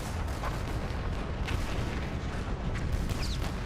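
Creeping barrage from hundreds of heavy artillery guns in the Great War, a continuous dense rumble of overlapping distant booms with no pause, like a constant roar of gunfire.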